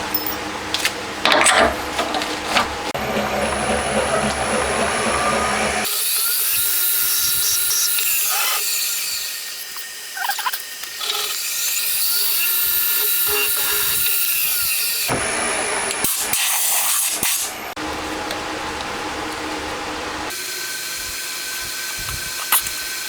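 M5 and M4 screw holes being drilled into a metal holder for parts of a 125cc twin-cam 16-valve four-cylinder engine; the machine whirs loudly in several long runs, stopping and restarting between passes.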